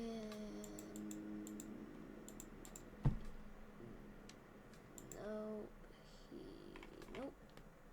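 Computer mouse clicks while working in Blender: a few sparse, brief clicks, one sharper and louder than the rest, over a low steady background hum with faint tonal sounds.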